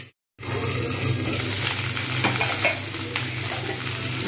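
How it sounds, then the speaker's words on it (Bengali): Winter cauliflower and potato frying in a pan without salt or turmeric, a dense, continuous sizzle with occasional stirring scrapes, close and steady after a brief silent start. "বেশ ভালো করে ভেজে নেব।"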